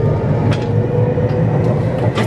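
A train passing in Japan, a steady broadband rumble held at an even level throughout, with faint higher rattles and hiss from the wheels and cars.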